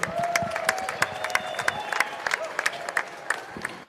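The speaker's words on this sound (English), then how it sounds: "Let's give a warm round of applause to all of our event partners" A crowd at a caged fight night applauds, a steady wash of clapping with scattered cheers and whistles, fairly loud and sustained, with a few voices mixed in.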